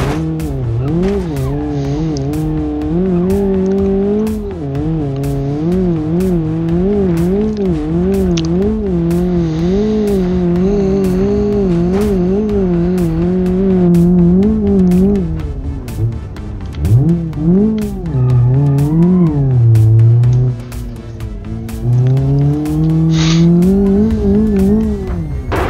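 A car driven hard until it overheats and breaks down, its engine revving loudly and continuously with constantly rising and falling pitch, tires squealing and sharp clicks breaking through, and no voices.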